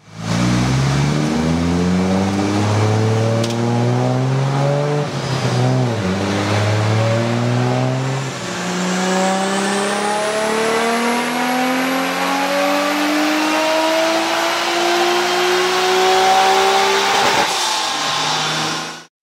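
A Nissan Skyline GTR engine revs hard on a dyno, climbing steadily through the gears in a loud, continuous roar with rising harmonics and brief dips at each shift, ending in a sharp high-rpm crescendo.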